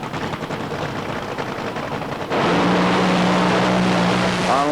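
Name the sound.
nitro drag racer engine during a run at Hockenheim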